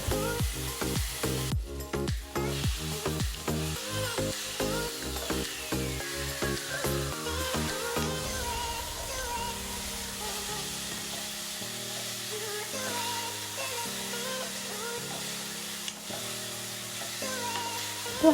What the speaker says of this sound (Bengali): এবারে সামান্য একটু নুন আর একটু হলুদ গুঁড়ো দিয়ে চালতাটাকে একটু ভাজা ভাজা করে নেব